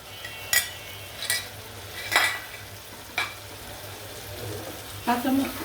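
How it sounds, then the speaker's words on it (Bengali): Blended onion and green chili paste fries in a pan with a soft steady sizzle, while a spoon stirs and scrapes the pan in several distinct strokes spaced about a second apart. "কাঁচামরিচ দিয়ে পেঁয়াজ দিয়ে আমি ব্লেন্ডার করছি। আমি এখন এটি ভালো করে ভাজবো।"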